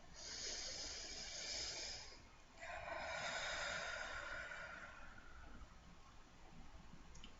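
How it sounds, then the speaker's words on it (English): Slow, deep breathing in and out, a long soft airy inhale followed by a fuller exhale, close and quiet with no talking. "Nice deep breath."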